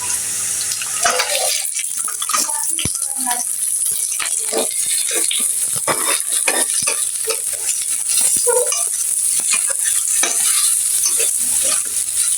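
Onion and capsicum frying with panch phoron spices give a loud, continuous sizzle, with frequent stirring scrapes and rattles from the pan up close.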